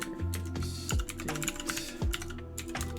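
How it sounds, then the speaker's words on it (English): Rapid typing on a computer keyboard, a dense run of clicky keystrokes with brief pauses, close and steady under faint background music. "Probably typing too fast."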